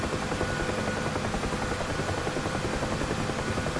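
A UH-1H Huey helicopter in the DCS flight simulator taxiing, its rotor and turbine making a loud, continuous, even drone with no voices.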